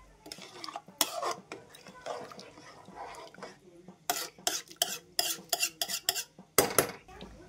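Rice for masala rice stirred and mixed in a metal pot, with repeated sharp scraping and clinking of a spoon against the vessel in irregular bursts, close and fairly loud, over a background of indistinct talk.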